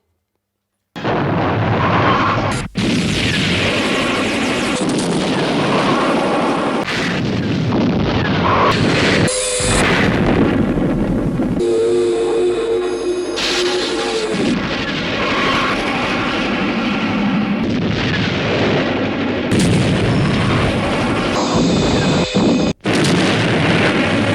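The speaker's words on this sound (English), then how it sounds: "I don't think with explosions we ever really knew what was going to happen." Continuous loud roaring rumble with heavy booming blasts and crackling debris, sounding like big explosions mixed with a powerful engine drone, from 1969 film special-effects explosions.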